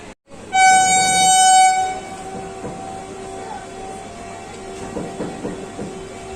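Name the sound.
Ajmer Janshatabdi Express train departing Delhi Cantt station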